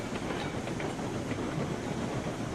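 A train runs along rails in the railroad simulation game Railroads Online, giving a continuous rolling rumble with faint rhythmic clickety-clack of wheels over track joints, steady and moderately loud with no speech.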